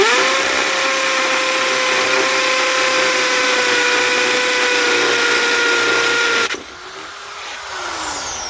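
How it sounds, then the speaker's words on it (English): Chicago Electric 1/2-inch hammer drill running under load, a steady loud, close whine with a rattling hammering buzz that drops off sharply near the end and then spins back up, no talking. "you can actually see the drill bit moving in the up and down direction, hammering direction."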